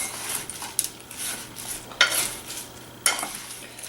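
Pecans being tossed and mixed with seasoning, with soft scraping and stirring plus a few sharp clinks spaced about a second apart, close up and with no voices.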